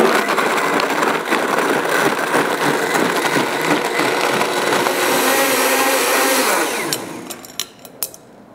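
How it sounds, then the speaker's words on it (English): A blender runs at full speed, blending almonds and water into almond milk. It gives a loud, steady whirring roar for about seven seconds, then winds down, followed by a few sharp clicks and knocks. "on your blender just push whole juice"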